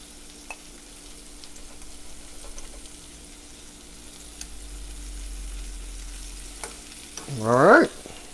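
Shrimp frying in a pan give a steady, soft, close sizzle that holds for several seconds, with a few small clicks. A brief tonal squeak rises near the end.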